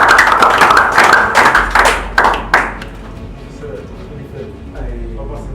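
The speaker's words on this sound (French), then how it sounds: "un applaudissement" Brief burst of clapping from a few people in a room, dense taps for about two seconds that thin into a handful of final claps, then quiet room tone.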